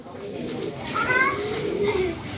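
Sky Rocket pigeons, an Australian breed, coo softly in a short burst, with a person talking nearby.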